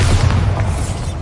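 A Bombarda spell blast in Hogwarts Legacy, a loud, dense low boom that rumbles steadily across a short moment with no clear onset or fade.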